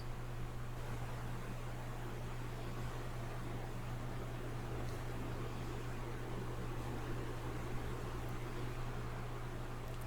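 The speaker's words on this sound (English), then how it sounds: "So it's going to go through and do a satin stitch on the bottom raw edge first." Embroidery machine stitching a satin stitch along the bottom raw edge of a quilted cross-body bag in the hoop, a steady continuous mechanical hum and whir with no pauses, moderately loud and alone.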